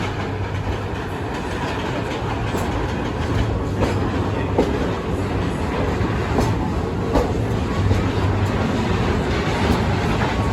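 Serengeti Express train rolling through Busch Gardens Tampa Bay, with a steady rumbling clickety-clack of wheels on rail that carries on for the whole stretch, close by and fairly loud.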